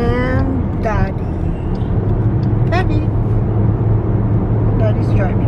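Steady low road rumble from inside a moving car on a Colorado drive, engine and tire noise droning constantly beneath people talking throughout.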